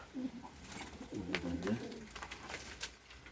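A pigeon being treated in a loft setting gives a soft, low, throaty coo close by, with a few faint bird sounds and room noise in the background.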